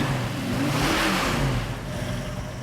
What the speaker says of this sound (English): I rev the engine up